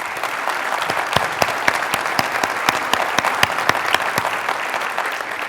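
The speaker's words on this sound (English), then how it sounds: "let's give all the sponsors and the Tiffany Circle members a round of applause" An audience at an American Red Cross awards gala applauds sponsors and donors, a dense, steady round of clapping with sharp individual claps standing out, moderately loud and sustained throughout.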